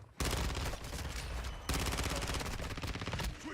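Dense, continuous automatic gunfire in a video game firefight, loud and close with rapid overlapping bursts and no pause.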